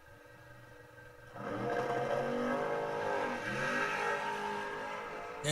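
Drag race cars launching, a 1968 Camaro Roadster and a Karmann Ghia, heard as a quiet lull that gives way to a sudden loud, sustained engine roar rising in pitch as they accelerate away.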